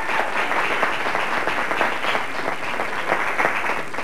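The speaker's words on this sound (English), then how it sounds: "Let's hear it for Mark." Studio audience applauding on a morning TV show, a steady dense wash of clapping that stays loud and even throughout with no talk over it.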